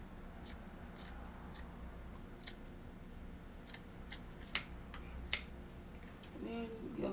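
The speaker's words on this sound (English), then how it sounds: "first we're gonna take our scissors. I might do a voiceover. I'm gonna just cut across" Scissors cut across fabric of a shirt with a few sharp, separate snips, two of them louder and crisper, against a quiet background.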